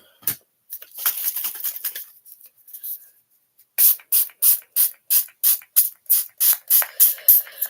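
A spray bottle spritzes repeatedly, a few uneven bursts followed by a steady rhythmic series of about a dozen sharp, close hissing sprays.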